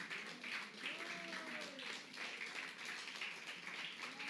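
A church congregation claps steadily, the sustained applause heard at a distance with a voice speaking over it.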